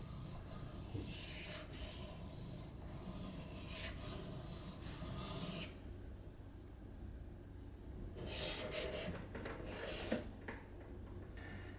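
A blade honed on a 700 grit sharpening stone with sweeping strokes: quiet, repeated gritty rubbing and rasping passes, close by, with a short pause midway before the strokes resume.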